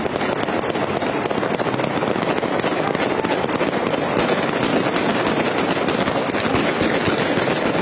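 Dense gunfire crackles from an armed clash, with tracer rounds flying overhead, as rapid overlapping bursts and pops keep a loud, unbroken barrage going throughout.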